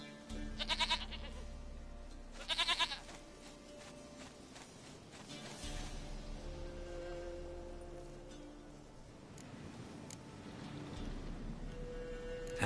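A goat in The Witcher 3 gives two short bursts of bleating, each a quick wavering run of notes, over a quiet game ambience with faint ticking and footsteps.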